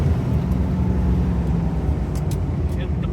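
A 1959 Chevy Bel Air with a 283 Power Pack V8 and three-speed overdrive pulls hard after a kickdown, giving a steady low engine drone from inside the car.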